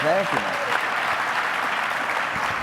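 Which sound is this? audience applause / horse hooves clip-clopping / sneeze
audience applause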